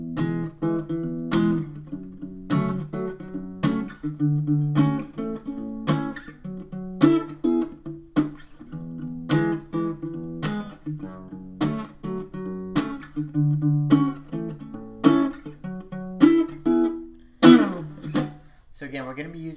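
Acoustic guitar picked note by note in a steady, rolling pattern, each pluck short and damped with a muted attack, played alone at close range.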